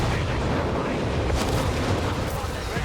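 Nebelwerfer rocket artillery firing in Company of Heroes 3, a dense, continuous roar of launches and blasts rumbling throughout, with faint talk underneath.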